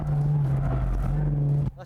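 A car engine holds a steady high rev within the torque band while drifting, with a strong low drone, then drops off sharply near the end.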